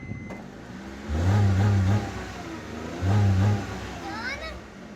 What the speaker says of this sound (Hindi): सबसे पहले मैं गाड़ी स्टार्ट करता हूँ